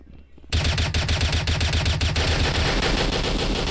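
Automatic gunfire in the virtual reality game Rec Room, a sudden loud burst of rapid repeated shots that keeps going steadily for about three seconds, close up and with nobody talking over it.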